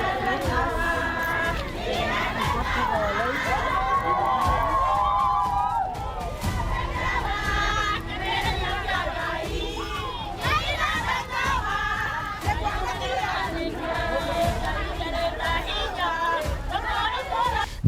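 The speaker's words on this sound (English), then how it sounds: "The gate was eventually locked and the crowd outside erupted, screaming, shouting, and demanding for entry." A crowd gathered outside a locked funeral gate screams and shouts continuously, many loud voices overlapping in a dense, agitated roar without a pause.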